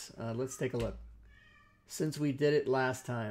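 A pet cat meowing somewhere across the house, heard as a brief faint cry in a pause between stretches of close talk.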